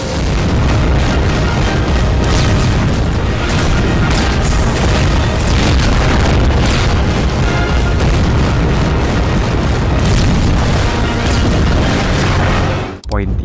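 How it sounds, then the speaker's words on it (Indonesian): The parliament building explodes in the film V for Vendetta, a dense, sustained roaring boom with rumbling bursts that stays loud throughout before dropping off near the end. "Lalu ketika Evie menekan tombol untuk meledakkan gedung parlemen, ribuan orang berdiri dan menyaksikan ledakan tersebut"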